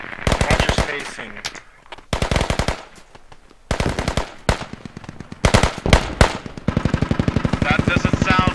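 Heavy .50 caliber machine gun on a Humvee firing in the military shooter game Squad, with several loud, rapid bursts of fire separated by short pauses and a long sustained burst at the end.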